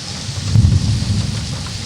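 Steady rain of a thunderstorm heard through an open window, a broad continuous hiss with a low rumbling swell partway through, fairly close and even, no voices.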